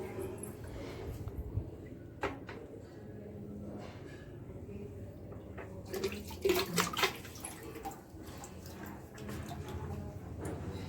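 Water is poured into a household water tank to rinse it clean, a steady splashing and gurgling with sloshing bursts and a few knocks, close by indoors.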